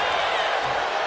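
Wrestling arena crowd roaring and cheering during a WWE Friday Night Smackdown match, a dense, steady wall of loud crowd noise with no single standout shout.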